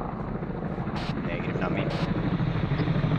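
Helicopter in the Arma 3 military game, a steady rotor and engine drone running throughout, with brief radio voices speaking over it.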